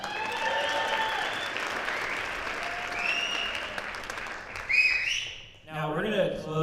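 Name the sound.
audience applause at jazz band concert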